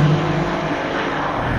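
A 2021 Mercedes-AMG GT R engine idles and rolls slowly through a parking lot, a steady, loud, deep rumble that sits close and continuous for the whole moment.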